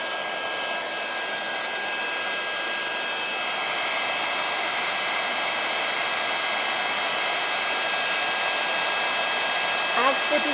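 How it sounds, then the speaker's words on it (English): Craft heat tool blowing hot air to melt embossing powder on a sunflower tag: a steady, loud whooshing hiss with a faint high whine that runs unbroken, with no talking. "So I'm going to use a heat tool."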